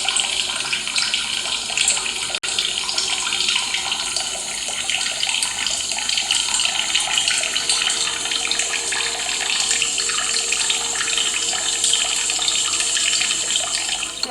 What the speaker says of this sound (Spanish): el sonido que produce el agua al caer sobre el agua acumulada